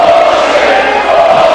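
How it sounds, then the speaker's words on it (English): A basketball crowd at a UMass versus GW college game roars in loud, sustained disapproval late in a close contest, a dense wall of voices filling the arena. "Crowd does not like it"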